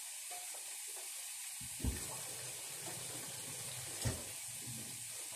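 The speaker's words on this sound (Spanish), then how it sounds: "Voy a echarle más agua porque tiene poco agua." Tap water running steadily into a cooking pot of eggs set to boil, a broad continuous hiss with two brief louder splashes or knocks partway through, no voices.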